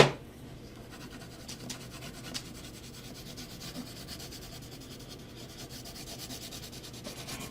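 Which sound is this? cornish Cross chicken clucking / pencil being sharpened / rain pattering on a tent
pencil being sharpened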